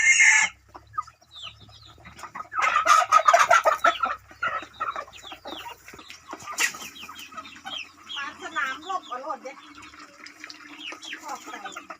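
A Thai native and Leghorn cross hen clucks in short, scattered bursts at close range, with other chickens calling around a farm and a brief louder flurry of squawks near the start.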